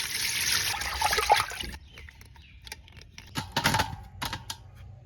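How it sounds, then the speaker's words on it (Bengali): Cut pieces of hilsa fish being rinsed in water, with a splashy, trickling wash at first, then quieter pauses broken by a few short bursts of sloshing and dribbling close by. "মাছটা কোড়া হয়ে গেছে, এখন ধুইয়ে লমু।"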